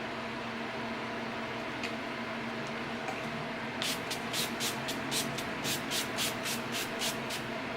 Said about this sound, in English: To set my makeup, I'm using the NYX Matte Finish Long Lasting Setting Spray